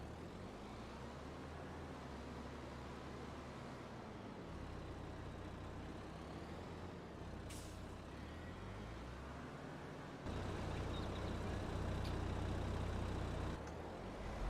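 A Valtra tractor driving in a farming video game, a steady droning engine hum with low rumble that shifts in pitch and grows louder near the end, with a couple of brief clicks and no talking.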